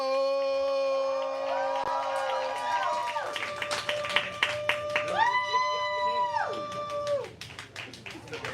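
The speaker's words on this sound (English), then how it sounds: "Then you clapping, you building energy, we making all the noise for Ken Joe." An audience at a live spoken-word poetry show claps and cheers for the next poet, rising into scattered applause and whoops after long sustained howling tones.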